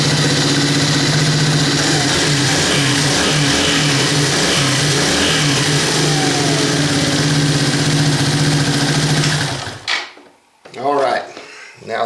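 A Suzuki DR200 motorcycle engine runs after a fresh oil change with a loud, steady idle and light revving, then shuts off near the end, leaving a few faint clicks and rustles.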